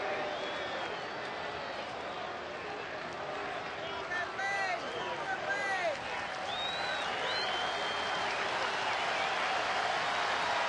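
Baseball stadium crowd at a Phillies home game against Washington, rising to its feet with two outs in the top of the ninth inning, keeps up a dense, steady roar of applause and cheering throughout, with scattered whistles and shouts.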